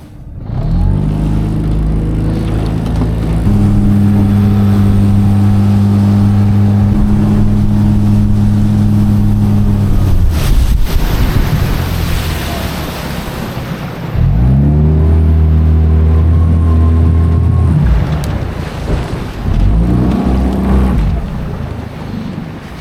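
A small motorboat runs on the Emajõgi river, its outboard engine droning loud and close with pitch shifts as the throttle changes, easing off briefly before surging again, with wind buffeting the microphone.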